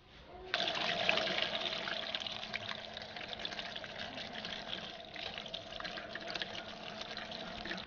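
Running water in a kitchen while shiitake mushrooms are washed, a steady close splashing flow that starts abruptly and continues unbroken throughout.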